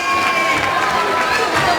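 A crowd at a 75th-anniversary celebration of the Compagnie de Marie Notre-Dame in Africa cheers and applauds in a dense, steady roar that fills the whole short stretch, with voices mixed into the noise.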